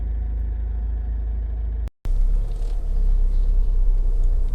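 A Honda CR-V 1.6 i-DTEC SR diesel with 47,492 miles idles steadily, a low continuous engine rumble close by, broken by a brief gap before the same even hum resumes.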